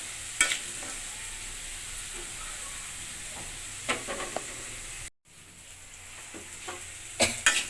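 Potato pieces frying in a pan while fish-head and cabbage ghonto is being cooked. The background sizzle stays steady, broken by occasional stirring scrapes and clinks. No one speaks.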